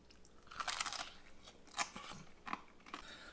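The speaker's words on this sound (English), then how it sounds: "Talk about some extra crunch, folks." Crisp, loud crunches come from biting and chewing a Korean fried chicken wing coated in gochujang sauce, with several separate crackling bursts close to the mic and no talking.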